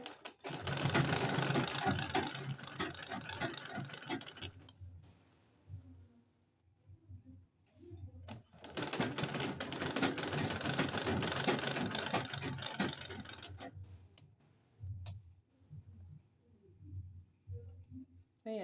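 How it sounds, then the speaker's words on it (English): Sewing machine stitching corset fabric for a spiral-structured corset, running in two long continuous bursts with a pause between and shorter stops near the end, close and steady. "I'll have to continue with the stitching."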